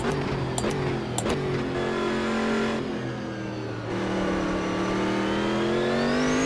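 Race car engine in the Automobilista 2 racing game revs loud and close, climbing through gears with brief shift dips, steady and alone without talking.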